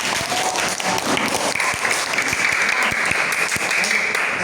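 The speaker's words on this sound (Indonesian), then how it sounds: "Tepuk tangan dulu ya buat temannya ya" A classroom audience of students applauds a classmate during a lesson, steady dense clapping at moderate loudness throughout.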